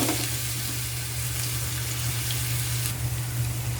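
Sliced ginger hits hot oil already seasoned with black pepper in a pan, a bright, crackling sizzle that flares and holds steady, close and loud, with no talking.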